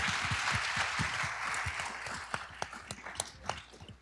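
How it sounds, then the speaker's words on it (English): An audience at a media summit applauds steadily, a dense wash of many hands clapping that thins toward the end into scattered individual claps. "Another round of applause."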